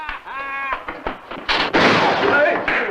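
Gunshots in a western film: a few sharp, loud reports and a burst of noisy firing come between lines of dialogue, with voices heard around them.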